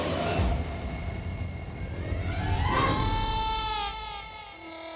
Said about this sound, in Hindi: सुबह सुबह कौन घंटियां मार रहा है?